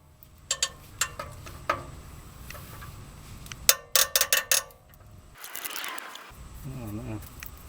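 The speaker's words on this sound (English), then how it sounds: "Is that the sound of nut loosening or a stud or post breaking?" A socket wrench works a seized nut on a car's catalytic converter, giving a few sharp metallic clicks and ratcheting snaps, then a quick cluster of louder cracks, with people talking faintly around it.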